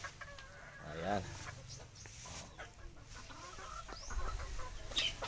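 Chickens clucking in a roomy backyard coop, with scattered close clucks and squawks and a brief high call, while a person speaks a word quietly over them.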